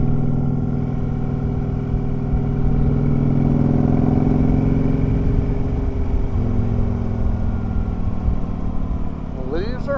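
A vehicle rumbling along a Coleman County road, its steady mid-pitched engine drone loud and close throughout, with a voice talking over it.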